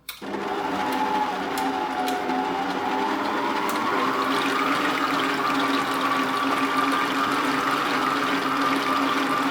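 An electric mixer whips cream into homemade butter, a steady loud whirring hum that starts abruptly and runs continuously, with no talk.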